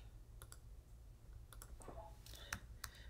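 Computer mouse clicks, soft and sparse, come through a very quiet room with low background hum.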